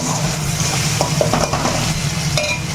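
Spice paste with onion, tomato and potato stir-frying in a pan, with a loud, close, continuous sizzle and a few spatula scrapes and clinks scattered through it, and no talk.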